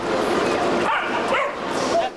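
Therapy dogs yip and whimper in a few short, high bursts close by, mixed in with a busy, noisy background.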